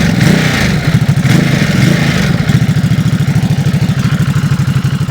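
A Ducati SuperSport 950S with its 937 cc V-twin idles up close and loud, a lumpy, even thumping pulse that stays steady after a brief blip of revs at the start.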